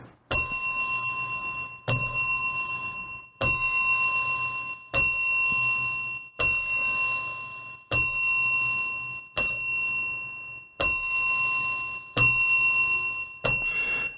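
A bell rung ten times in a slow, even count for a fallen comedian, each bright metallic strike ringing out and decaying before the next, about every second and a half, loud and alone in silence.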